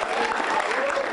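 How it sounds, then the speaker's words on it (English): A short burst of group clapping at a club gathering, dense and steady through the whole moment, with a voice faintly under it. "So give Graham a round of applause."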